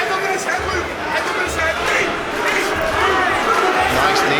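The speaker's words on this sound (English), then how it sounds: "the crowd picking up on every little thing he does, roaring his name" A big crowd at an MMA cage fight roars continuously in a loud, swelling chant, filling the arena behind the fight.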